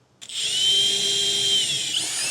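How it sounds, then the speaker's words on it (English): Power drill boring a small pilot hole into the bed of a 2024 Chevrolet truck, a sharp start followed by a steady high whine that runs close and loud for about two seconds. "And then I'm going to start out by drilling a small pilot hole."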